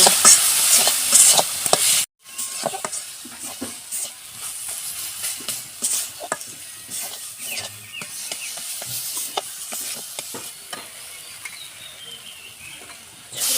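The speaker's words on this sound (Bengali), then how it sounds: "মাছটি দিয়ে নেড়ে সেড়ে জল দিয়ে দেবো এটাকে" Fish curry masala fries in a pan, giving a steady hiss and sizzle, and water is added. A spoon stirs and scrapes in irregular clinks, and steam bursts loudly at the start, then settles to a softer simmering crackle.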